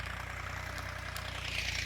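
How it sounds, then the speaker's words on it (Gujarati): A tractor engine pulling a plough through a field runs with a steady low, throbbing rumble and regular pulse, fairly close and constant, with no voices. "ને જો અમારો ટ્રેક્ટર હાકે છે"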